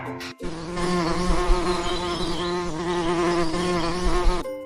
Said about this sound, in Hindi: बी को हिंदी में कहते हैं मधुमक्खी।